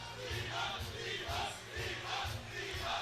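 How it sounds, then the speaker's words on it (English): An arena crowd at an Animals MMA fight night in the Melrose Ballroom roars and cheers wildly, loud sustained swells of shouting in waves with no clear talk over it. "Zihad Uddin's fans going wild in the arena here"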